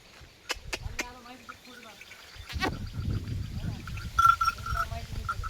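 A young calf bleats in short cries among rustling and low farmyard noise, with a faint bird call and a later whine in the background.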